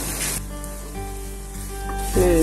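Fried fish being stirred in a pan for a green bean bharta, with a steady soft sizzle and a few utensil scrapes, close and alone.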